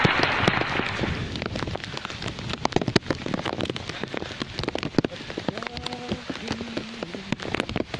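Rain pours down while kids bathe and play in it outdoors, a dense, steady patter broken by sharp, close drop impacts, with a brief tonal sound near the end.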